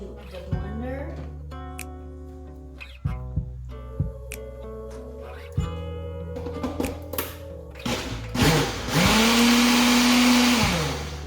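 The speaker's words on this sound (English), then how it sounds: "So now this much back into the blender." After several knocks and clinks, a blender starts up and runs loudly and steadily for a few seconds, blending potato soup, with a voice heard earlier.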